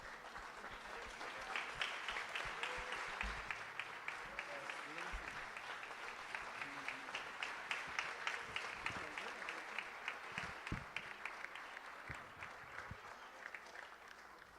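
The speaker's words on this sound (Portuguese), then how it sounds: "aplaudindo ainda mais forte pela vida da pastora" A church congregation at a communion service applauds in a long, steady wave of clapping heard from a distance, with a few faint voices mixed in beneath it.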